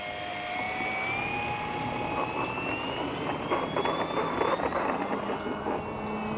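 FMS 1800mm Ranger radio-controlled plane taking off with takeoff flaps, a steady electric motor whine that rises in pitch with a broad rushing roar underneath, fairly close and continuous throughout.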